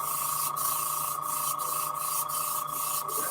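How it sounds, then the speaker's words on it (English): An airbrush sprays paint onto fishing baits with a continuous hissing airflow and steady compressor hum, and the hiss is broken by a series of short, regular pulses as the spray is worked. "Spray it out and see what it looks like."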